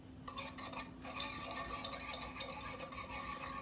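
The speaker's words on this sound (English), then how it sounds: "I am going to gently boil this and stir it together." A small whisk stirs gently boiling keto syrup in a pot, giving soft, continuous scraping and clinking against the metal, faint and close with a steady hum beneath.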